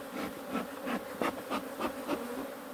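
Honeybees buzzing close at a beehive, a dense hum with rising and falling pulses as bees pass near, moderately loud and alone.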